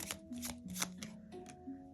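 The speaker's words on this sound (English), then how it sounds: "Come on, I'm shuffling." Tarot cards are shuffled by hand during a reading, giving a quick run of crisp riffling bursts, close and clear over a faint steady musical tone in the background.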